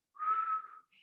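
A single whistling exhalation pushed out through the mouth in a breathing exercise, a close, steady airy tone lasting about half a second that trails off, followed by a faint short wisp, with no talking.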